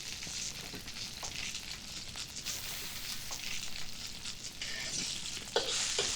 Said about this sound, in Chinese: 最后一道菜已经快炒完了